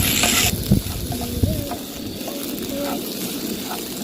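Kothu dosa stirred in a pan over low flame, a soft continuous sizzle with occasional scraping clinks of a spoon against the pan, close, with faint tonal sounds under it.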